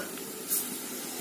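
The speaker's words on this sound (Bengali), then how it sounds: "ফুলুরিগুলো ভেজে নিয়ে আবার আসছি।" Palm fruit fritters (tal fuluri) frying in hot oil give off a steady, close hiss with a brief louder spurt partway through, and no voices.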